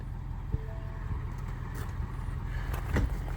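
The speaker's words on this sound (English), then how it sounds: "leave the truck running" A truck engine idles with a steady low rumble, with a few faint clicks and knocks over it.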